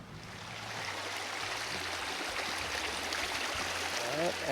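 A mountain stream flows steadily nearby, a constant broadband rush of water with a low hum running underneath, and it holds even for the whole stretch without breaks.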